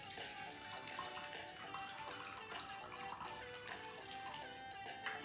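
Faint, steady stream of water pouring and splashing into a container of fenugreek seeds for washing, continuous and quiet with no voices.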